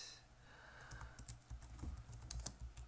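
Someone types a search term on a computer keyboard, a close, quiet run of light key clicks in an uneven rhythm with no voices.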